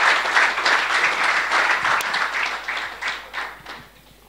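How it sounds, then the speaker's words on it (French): Audience applause and scattered cheers welcoming a speaker at a talk on challenges for Christian couples, a dense wash of clapping with distinct claps standing out, fading near the end. "Donc, recevons-le. Avec des acclamations,"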